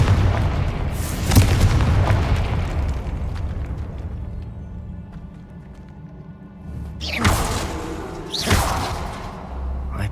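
Spell blasts in the Hogwarts Legacy video game, a Confringo fire explosion with booming bursts and rumbling debris, followed by two sharper explosive hits near the end.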